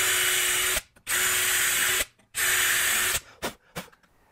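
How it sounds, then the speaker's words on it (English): A power drill bores pilot holes for number 6 wood screws, running in three loud sustained bursts with short pauses, followed by a few brief spurts as the trigger is feathered. "I'll drill the pilot holes for the number 6 wood screws."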